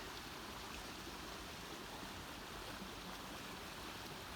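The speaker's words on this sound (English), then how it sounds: "let's just listen to the water for a minute here" Steady, dense rush of flowing water, a loud continuous gush with no pauses and no voices.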